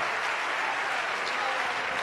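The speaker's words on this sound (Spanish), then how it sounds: "demos ese aplauso fuerte al maestro" Church congregation applauding the preacher during a Spanish-language sermon, a continuous wash of many hands clapping that sounds broad and somewhat distant, steady throughout without distinct individual claps.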